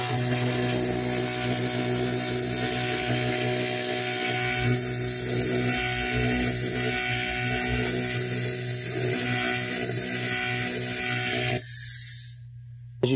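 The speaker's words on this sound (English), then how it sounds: "As you just heard, you could hear the air leaving the nozzle near the last little bit that was in there." A 1000 watt fiber laser cleaner in a 3-in-1 clean, weld and cut machine runs with a steady mechanical hum and hiss of air rushing from its nozzle, continuous and fairly loud, then cutting off abruptly near the end.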